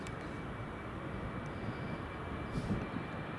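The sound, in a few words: British Airways airliner rolling for takeoff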